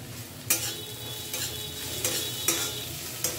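Whole green chillies and cardamom frying in a pan, with a sizzle underneath and a spatula scraping in several sharp strokes at irregular intervals, close and clear.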